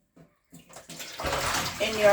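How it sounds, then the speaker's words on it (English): Raw meat being washed under running water in a kitchen, a few faint handling taps and splashes giving way to a steady close rush of water from about a second in. "So I'm gonna go ahead and wash it again."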